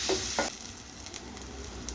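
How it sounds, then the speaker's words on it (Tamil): Onions sizzle faintly in hot oil, with a couple of soft stirring scrapes at the start and a steady low crackle after. "பொடியாக நறுக்கி வச்சுருக்க வெங்காயத்தை சேர்த்து அதுவும் நல்லா வதக்கணும்"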